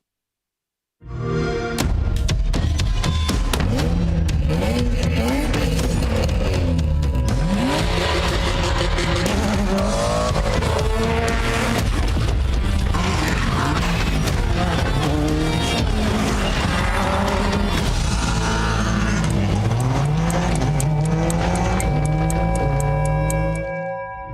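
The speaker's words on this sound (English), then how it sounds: "The other reward car this series is a rally car. Here it is in action." Rally car racing in Forza, engine loud and continuous throughout with revving, gear shifts and tire squeal, close and dominant for the whole run.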